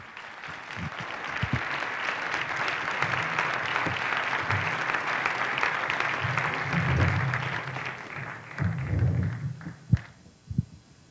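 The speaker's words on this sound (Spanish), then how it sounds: "Es un aplauso para el Fernando M" An audience claps for film director Fernando Eimbcke, with steady applause and low crowd murmur that builds, then fades into scattered final claps and a few thumps.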